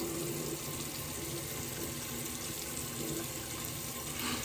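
Running tap water pours steadily as a razor is rinsed under it, a close continuous splashing rush with no talk.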